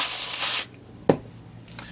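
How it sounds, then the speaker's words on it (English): A cleaning spray hisses into a Hadewe dental handpiece in one loud burst of about half a second, followed by a short knock and a faint rustle. "Give it another spray."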